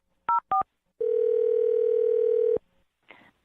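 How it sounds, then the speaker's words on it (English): A telephone dials a number: two short keypad tones, then a long steady dial-type tone, followed by a brief burst of line noise. "I'm going to dial her phone number right now."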